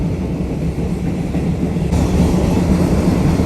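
An old train rolls along past salt fields near Mae Klong, Thailand, giving a loud steady rumble with a faint rhythmic clatter throughout.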